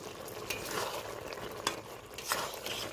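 Garam masala is stirred into a sizzling pan of chickpea dal with soybean, giving continuous frying crackle under scattered scrapes and taps of a spoon against the pan.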